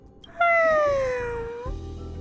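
A cat meows once in the video game Honkai Star Rail, a long drawn-out cry that slides downward in pitch, clear and close over a low background hum.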